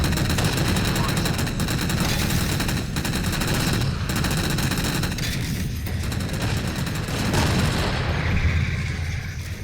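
Rapid automatic gunfire shoots down jammers in Halo 4. Dense, loud bursts and booming shots pound almost without pause over the whole stretch.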